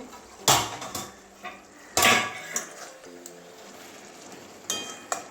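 A lid is lifted off a pot of raw banana and potato curry simmering on medium heat, with sharp metallic clanks at the start, in the middle and near the end, and a soft bubbling simmer between them.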